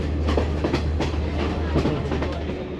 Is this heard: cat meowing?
no